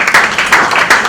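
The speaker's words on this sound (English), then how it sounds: "A round of applause, please." Applause at an electoral commission event breaks out in loud, close bursts of clapping with an uneven, pulsing rhythm, rising and falling several times over a short stretch.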